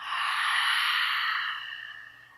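A long, breathy open-mouthed exhale imitating an ocean wave during a chair yoga breathing exercise, loud and steady at first, then fading over about two seconds, heard alone without talk.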